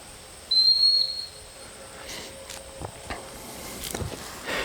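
A sharp, high dog training whistle blast during duck dog handling training, heard once near the start and lasting under a second, followed by quiet outdoor background with a few faint knocks and rustles.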